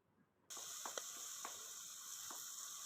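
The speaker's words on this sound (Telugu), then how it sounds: "చికెన్ బాగా ఫ్రై అవ్వాలి కదా ఫ్రై చేసుకుందాం" Chicken frying in a pan on a wood-fire stove for a village-style curry, a steady faint hiss and sizzle that starts suddenly, with a few soft crackles and pops over the constant frying.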